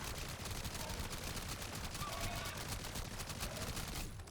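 Rapid automatic gunfire in a looter-shooter video game, dense continuous bursts of shots filling the whole stretch, with a brief cutoff near the end.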